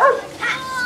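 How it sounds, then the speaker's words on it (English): A dog gives a short, close yip that trails into a whimpering whine, lasting about a second. "He is a dog!"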